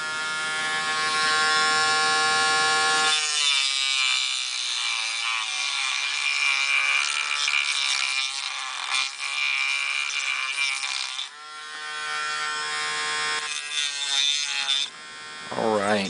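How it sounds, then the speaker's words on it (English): A Dremel rotary tool cuts into the plastic lower receiver of a GSG-5 rifle, making a high, steady whine that wavers and briefly dips as it bites, close and fairly loud, with short talk at the start and end. "the cutout and the Dremel work on the serial number block is done"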